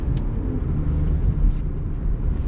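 A tuned Alfa Romeo Quadrifoglio driving in dynamic mode, its engine giving a steady, loud low rumble heard from inside the car, with faint higher whines drifting over the drone.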